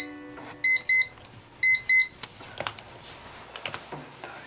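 A timer alarm beeps in two short bursts of rapid, bright electronic pips, loud and close, followed by quieter clicks and handling sounds in a room.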